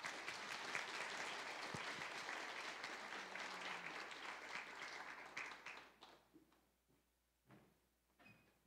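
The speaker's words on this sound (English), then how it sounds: "Please welcome her with a round of applause." Audience applause welcomes a speaker at a conference workshop in Taipei, a dense round of clapping that fades after about six seconds into scattered claps, faint shuffling and room sounds.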